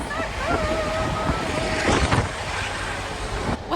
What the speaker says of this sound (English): It's really quite rather windy out here